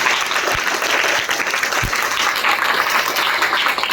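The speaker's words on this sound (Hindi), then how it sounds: "इन सबके लिए जरा तालियां बजा दीजिए" Audience applause at a gathering, a dense, loud and continuous round of clapping from many people, with a couple of low thumps and no speech.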